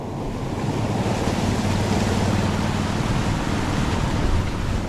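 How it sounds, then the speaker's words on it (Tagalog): Strong typhoon wind and surging waves roar continuously at a fishpond, a dense, loud wash of water and gusting air with no voices. "Uy, ang lakas pa din dito ng bagyo."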